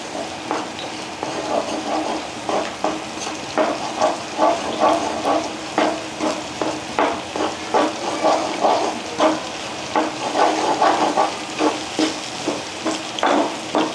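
Beaten eggs seasoned with pepper and salt fry in a pan over a high flame for egg thoran, with a soft sizzle under repeated, rhythmic scraping strokes of a spatula stirring close up.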